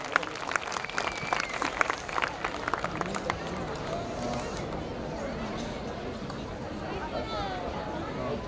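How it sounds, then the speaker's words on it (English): Crowd clapping at a school annual day celebration, with sharp distinct claps in the first few seconds that give way to a murmuring audience and background chatter. "let's give a huge round of applause to our dancers"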